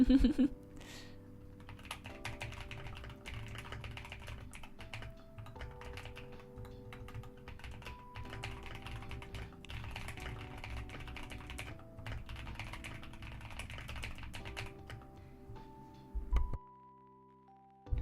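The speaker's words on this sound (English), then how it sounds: "I definitely am getting a couple more errors as I'm typing than I usually would. Because the keyboard is, you know, not exactly what I'm used to." Steady typing on a new computer keyboard, with a continuous run of close clicking keystrokes and a few louder knocks at the start and end.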